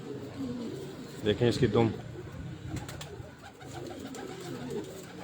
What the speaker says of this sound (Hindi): हमाद भाई के घर का लाखा कबूतर जी, बड़ा परफेक्ट कबूतर है